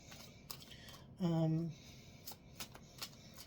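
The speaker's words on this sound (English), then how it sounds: "So these are the classic tarot cards" A Rider tarot deck being shuffled: soft, scattered papery riffles and taps spread across a few seconds, interrupted by a brief hummed vocal sound near the middle.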